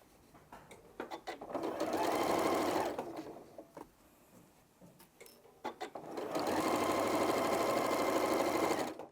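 Sewing machine running a quarter-inch seam on quilt-top pieces, two steady close whirring bursts of a few seconds each, separated by fabric handling and clicks.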